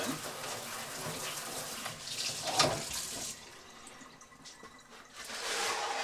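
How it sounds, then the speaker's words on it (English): Tomatillos rinsed under a running kitchen tap: a steady, moderately faint stream of water splashing into a sink, with brief louder splashes as the fruit is handled. "we're going to rinse them all off, get the stickiness off of"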